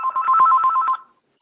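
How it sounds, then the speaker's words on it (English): A telephone rings with a short, loud electronic trill of rapid pulses that stops abruptly after about a second and leaves silence. "I'm going to start over again without my phone ringing, hopefully."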